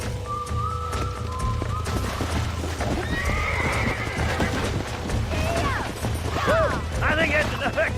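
Horse neighing and whinnying in the Red Dead Redemption video game, with clip-clop hooves under a steady game soundscape, several whinnies rising toward the end, alongside mumbled voices.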